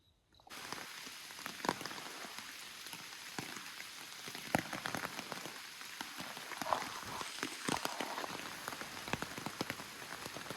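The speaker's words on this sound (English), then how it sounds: "Started raining really, really hard last night." Steady, dense heavy rain pours down at night at a campsite, with scattered louder drops pattering on a nearby surface throughout.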